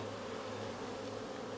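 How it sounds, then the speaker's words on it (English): Honey bees hum in a dense, steady buzz while brood frames are handled in a cell builder hive, loud and close with no pauses or voices. "shake the bees off, and replace them with these 5 new brood frames"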